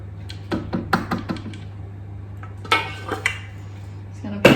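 A Thermomix bowl is set back in place and melted butter is added, giving a series of light clinks, knocks and taps of kitchen equipment at close range, spaced irregularly over a low steady hum.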